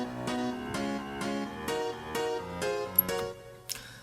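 A second piano layer plays pre-chorus chords with the chord voiced two octaves up, about eight evenly spaced struck chords ringing in a steady rhythm, clear and alone, before a short fade at the end.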